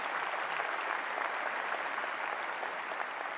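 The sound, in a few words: audience applause at inauguration ceremony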